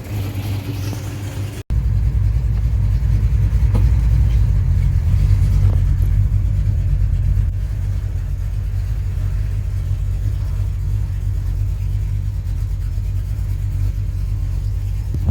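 A 1970 Pontiac LeMans with a 455 engine and recently reworked MSD ignition pulls away on a test drive, its low, steady V8 rumble loud and close inside the car, rising briefly under acceleration before settling into an even cruise.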